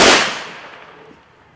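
A single sharp gunshot crack from a police honor guard's rifle volley at a Memorial Day ceremony in Hillsborough, loud and close, fading in an echoing tail.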